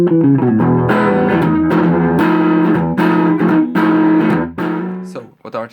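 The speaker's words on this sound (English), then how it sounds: "when the effects are completely off, so actually you hear only the amplifier section, and it's obvious that there's some inherent distortion in it." Electric guitar played through a Raspberry Pi Pico amplifier with all effects switched off, showing inherent distortion: loud sustained chords and picked notes ringing continuously, then decaying near the end.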